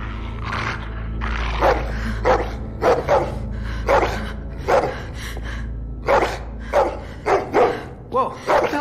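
A dog barks repeatedly in The Walking Dead video game, sharp barks and yips in an irregular burst, close and loud over a low background rumble.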